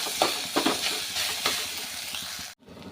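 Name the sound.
mixing cooked eggplant in a pan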